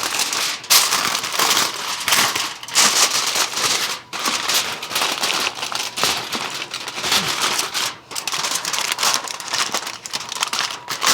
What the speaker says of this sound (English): the directions call for us to cover the potatoes tightly with foil